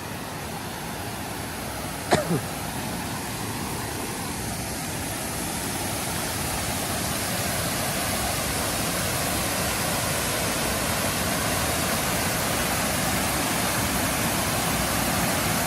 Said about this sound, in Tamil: இது வந்து நம்ம செக் டேம்லேருந்து விழுகிற தண்ணி